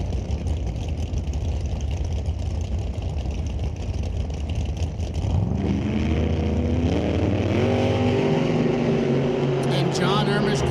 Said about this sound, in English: Real fast bracket racing, driving the stripe at nearly 200 miles an hour.